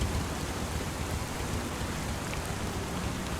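Steady rain pours onto the metal gutters of a farm shed in Farming Simulator 25, a dense, even hiss of drops with no talk, holding constant and fairly loud throughout.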